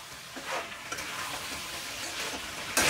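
Raw dry coconut powder is stirred and fried in oil for chicken korma, a close, busy sizzle with scraping spoon strokes across a few seconds and a louder burst at the end.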